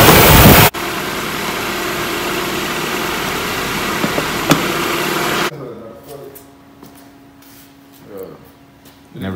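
A Nissan Hardbody D21 pickup engine runs just after a new starter went in. A loud broadband burst comes first, then a steady engine roar that drops to a quieter, rougher idle partway through.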